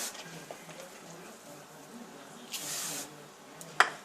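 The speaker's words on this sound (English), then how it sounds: "We're going to spray the outside" Grapeseed oil cooking spray gives one short hiss from the can, with soft kitchen clicks and handling noise around it and a small tap near the end.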